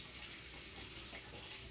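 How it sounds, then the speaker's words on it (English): Water runs in a steady, continuous stream into a cooking pot of chicken for a chicken and rice soup, a soft, even splashing rush with no talk over it. "I'm just putting a little bit more water, just to get it to about three-quarters of the way."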